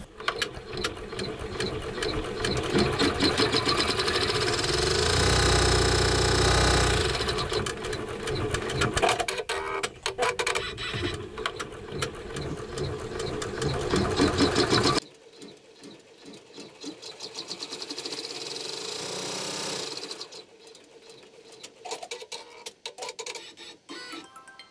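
A Baby Lock embroidery machine stitches a t-shirt at high speed, a loud, steady rapid mechanical whir and clatter that runs without a break and then drops to a quieter, lighter stitching patter.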